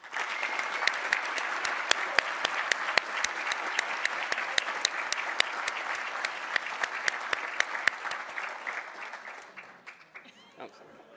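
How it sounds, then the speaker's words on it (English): Sustained audience applause for honorees at the 2019 DoD CIO annual awards ceremony, dense clapping with sharp individual claps on top, tapering off near the end as voices begin. "Let's give one last round of applause for all of our honorees"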